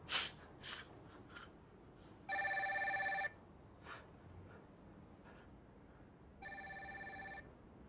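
A telephone bell rings in two bursts of a little over a second each, clear and fairly close, separated by a quiet gap with faint small sounds and no talking.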